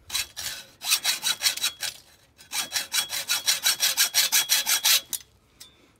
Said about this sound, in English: copper pipe isn't hard to cut. You see a few strokes and we're through like that.